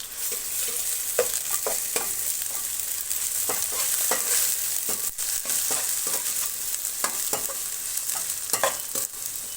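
Paneer fries dark in a pan with ginger-garlic paste, keeping up a steady sizzle broken by repeated scraping stirs of a spoon against the pan, heard close with no talking.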